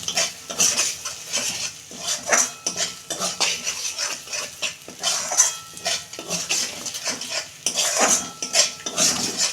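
A spoon stirs and scrapes pointed gourd mash with a little sugar in a pan, giving steady close clinks and scraping strokes with no talk.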